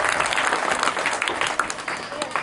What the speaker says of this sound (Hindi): ताली बजाकर इनका स्वागत करें,